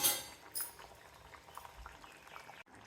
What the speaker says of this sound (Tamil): அது வரைக்கும் நல்லா கொதிக்கட்டும்